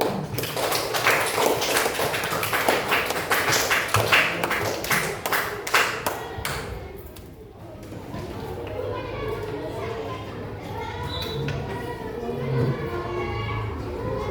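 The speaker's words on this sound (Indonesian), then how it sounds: "Ya, tepuk tangan untuk kelompok satu." A classroom of children claps for the first student group in a school lesson, a dense burst of hand claps for several seconds that fades out, followed by general room chatter and children's voices.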